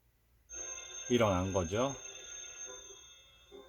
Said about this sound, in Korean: 저 전화가 울리면